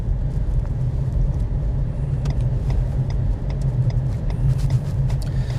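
A car drives steadily through a busy Highland village on the Black Isle, Scotland, heading toward the car parks, with a continuous low engine and road rumble throughout and no talk.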